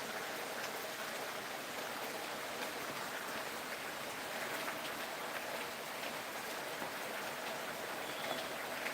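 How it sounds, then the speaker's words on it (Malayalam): A soft, steady hiss of rain falling at a distance in Changanassery, Kerala, even and unbroken, with no voices. "മഴ ഇങ്ങനെ നിന്നും വന്നും പോയിക്കൊണ്ടിരിക്കുകയാണ്"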